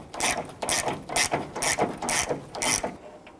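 A ratchet on an extension turns a 10mm bolt on a 2006-2010 Hummer H3 grille, six quick bursts of rapid pawl clicking in a steady rhythm, close and clear with no talk.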